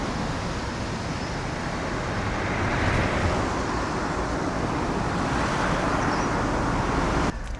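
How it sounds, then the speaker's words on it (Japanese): Road traffic passes near a small electric pop-up camping trailer as a continuous, moderately loud roadway rumble, swelling slightly midway, heard from inside with no talking. "今回ちょっと車通り多い場所だったんですけど"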